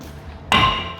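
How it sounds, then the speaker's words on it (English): A single sharp metallic clang as a hammer strikes a car's brake disc to knock it loose, close and loud, ringing briefly after a quiet moment. "Hammer."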